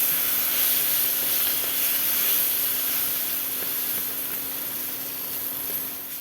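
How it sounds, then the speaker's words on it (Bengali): Okra (bhindi) with salt and turmeric frying in oil in a kadai: a loud, continuous broadband hiss and sizzle with a faint steady hum beneath, fading slightly at the end. "এবার ভালো করে ভেজে নেব"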